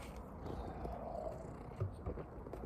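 A cat purring close by, a low continuous rumbling texture that carries steadily throughout, with a couple of faint soft bumps near the end and no talking.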